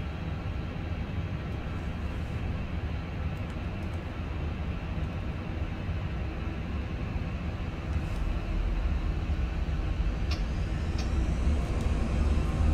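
A steady, broadband roar of Airbus A321 engines spooling to takeoff thrust on the runway at Düsseldorf in a flight simulator, holding level and swelling slightly louder toward the end, with a few faint clicks above it.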